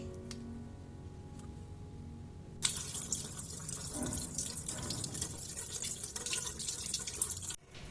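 Tap water runs and drips into a sink as a split lobster is rinsed clean, a steady close splashing flow with a sudden louder burst partway through and an abrupt cut near the end.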